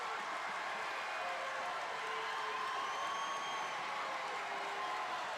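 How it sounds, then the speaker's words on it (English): At a high school wrestling match between PHS and South, a crowd fills the gym with a constant, distant roar of cheering and clapping, dense and unbroken from start to finish. "Listen to this crowd."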